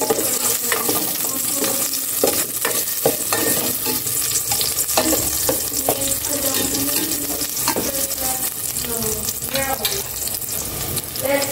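Garlic, onion and chili frying in a pan, a loud crackling sizzle with repeated stirring and scraping strokes throughout, close by, with no talk over it.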